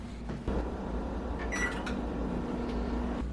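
A microwave oven cooking bacon hums steadily with a low electrical drone, preceded by a door thump and a few brief beeps partway through.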